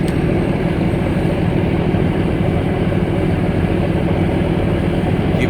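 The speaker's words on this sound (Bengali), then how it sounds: "এমভি ফারহান পাস এই লঞ্চটি আমাদের এমভি মানিক এক লঞ্চকে এখনই অতিক্রম করবে" A large passenger launch, MV Farhan, passes on a river, its loud, steady engine drone and rumble continuous and close throughout, with no talk.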